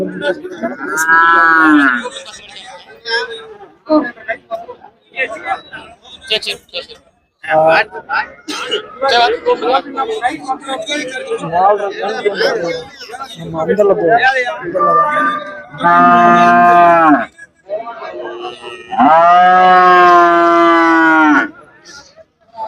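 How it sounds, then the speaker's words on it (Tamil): Cattle at the Puliampatti livestock market, with heifers and calves for sale, moo loudly several times in long drawn-out calls over steady market babble and background noise. "வாங்கின மாடுகள் சந்தை கொஞ்சம் அப்படியே சவுண்டு வருது"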